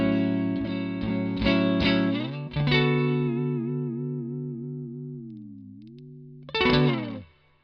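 Clean electric guitar chords on an Ernie Ball Music Man Cutlass HSS neck pickup, strummed a few times, then a sustained note ringing out with a touch of reverb before a final strum.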